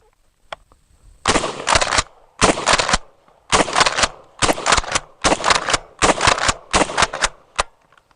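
A Smith & Wesson M&P12 shotgun fires at an outdoor range: seven loud, booming blasts in a steady rhythm, each about half a second long with a harsh ringing tail and short quiet gaps between.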